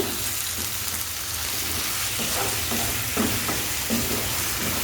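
Tomatoes and salt are stirred into Kerala-style squid masala in a pan, with a wet, even sizzle and several soft scraping stirs toward the end.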